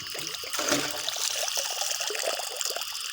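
Close splashing and trickling water as a freshly caught eel is rinsed by hand outdoors, with irregular dribbles and small splashes continuing steadily.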